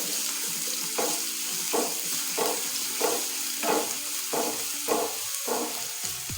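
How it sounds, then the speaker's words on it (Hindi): Garlic sizzling and frying in hot oil in a pan with mustard seeds, a steady crackle under repeated stirring scrapes roughly every half second, close and moderately loud, no talking. "लहसुन को थोड़ा सा जो है वो ब्राउन कर लूँगी मैं"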